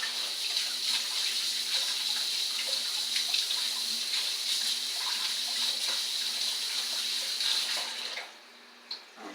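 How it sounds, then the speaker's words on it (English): Water from a kitchen tap runs steadily while hands are washed underneath, a close, even hiss with small splashes, stopping abruptly near the end. "I'm gonna wash my hands really fast."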